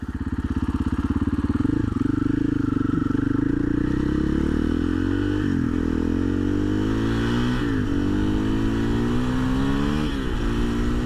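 An Athena Get SX1 motorcycle, running map 1, revs hard and climbs through the gears, its loud, close engine rising in pitch, dropping briefly at each shift, then climbing again for the whole stretch.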